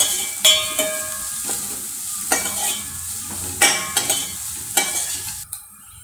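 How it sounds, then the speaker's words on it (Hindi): Onion, cumin and a spice paste sauté in hot oil in a pan, giving a steady close sizzle broken by several sharp scraping stirs of a spoon against the pan, with a quieter stretch at the end. "और थोड़ा भून लीजिए।"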